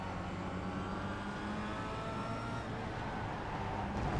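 A Kia Optima race car in the iRacing simulator on the Rudskogen circuit, its engine droning steadily under hard driving, with a continuous mid-level roar and faint rising tonal lines as it holds revs throughout.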